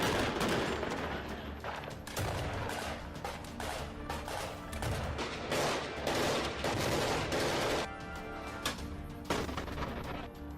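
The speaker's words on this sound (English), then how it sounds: "the FSB is using this grenade launcher quite a lot, and there are a number of videos showing it" GM-94 grenade launcher fired by Russian special forces, heard amid sustained loud gunfire and bursts of fusillade throughout, with dense overlapping shots and no talking.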